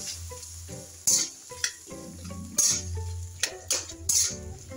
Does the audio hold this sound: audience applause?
no